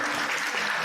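Warm applause from wedding guests at a Korean wedding ceremony, a brief dense burst of clapping filling the room.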